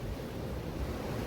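Waves wash against the lava-rock coast at Lajes in the Azores, a steady close surf roar with some wind across the microphone, unbroken through the moment and with no voices.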